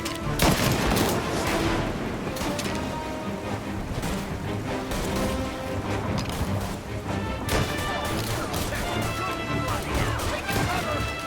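Gunfire in Mafia: Definitive Edition, dense overlapping shots and crashes in a chaotic firefight, loud and continuous over a game music bed, with voices speaking at moments.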